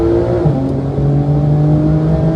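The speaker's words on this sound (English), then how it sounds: "First car is our project Porsche 992 Turbo S." Porsche 992 Turbo S at the Dubai Autodrome, its engine holding a loud, close, steady drone with a slight pitch shift partway through, continuous and without talk.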